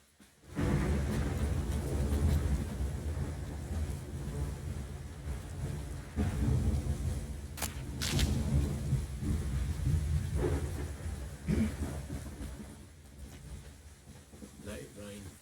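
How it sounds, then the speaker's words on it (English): Video game thunderstorm in The Witcher 3: steady heavy rain with long rolling thunder rumbles, a sharp crack partway through, and a voice speaking over the storm. "Let it rain. A storm."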